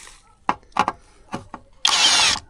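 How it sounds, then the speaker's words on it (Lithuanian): A few knocks and clunks of a socket being fitted, then a power tool whirs in one loud, close burst as it unscrews bolts. "apsikeisti galvutę ir išsukti porą varžtų"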